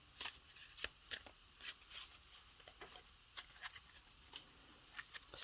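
Mystic Oracle cards with a smooth rose-petal finish are shuffled by hand, giving soft, close riffling and sliding swishes in a steady, uneven rhythm with no talking.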